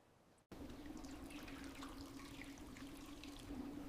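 Liquid epoxy pours steadily onto a smooth floor base for a deep ocean epoxy floor in an attic conversion, a continuous close, soft trickling stream starting abruptly after a brief pause.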